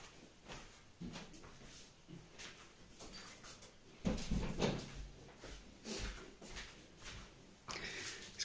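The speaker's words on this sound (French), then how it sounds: "je vais juste fermer la porte" A door is closed indoors, with faint handling rustles and then a soft clunk as it shuts, followed by a few quieter knocks.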